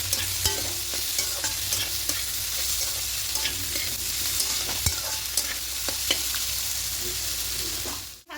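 Ingredients for vegetarian white fried rice being stirred in a pan with sugar mixed in, the spatula ticking and scraping against the metal over a constant close sizzle that cuts off abruptly at the end.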